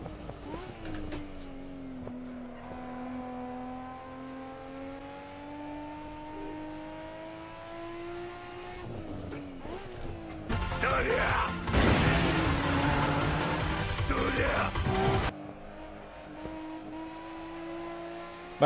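A race car engine from a Japanese car pack in the Assetto Corsa driving game revs high in a sustained rising and falling whine, then gives way to a louder, rougher burst of engine and tyre noise.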